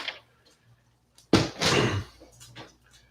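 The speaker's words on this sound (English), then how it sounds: "So he's going to knock over the picture." A dog knocks over a picture indoors: one sudden loud crash and thud, followed by a second of clattering as it settles, set against a quiet room.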